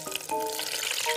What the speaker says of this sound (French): Le chef va lancer la friture de l'œuf en le plongeant très délicatement dans l'huile à 200 degrés